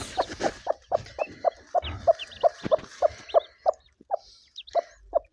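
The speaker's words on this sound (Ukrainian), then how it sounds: "Це квочка, курка." A broody hen clucks close by in a steady run of short, low clucks, with a few higher chirps in the background.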